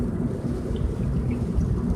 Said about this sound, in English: I'm riding right now. It's raining.